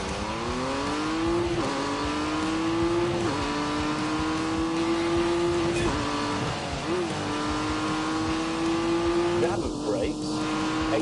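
A race car engine in The Grand Tour Game, billed as the fastest car in the world, revs hard off the start line and climbs through repeated gear shifts, loud and steady, with a voice talking over it.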